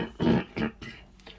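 A few rough coughs come in quick bursts, the first loudest, then two or three smaller ones trailing off, close by and with no speech over them.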